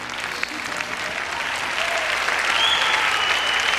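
A ballroom crowd at a 2002 dance championship applauds after a Viennese waltz, sustained, loud clapping that swells slightly and continues steadily throughout.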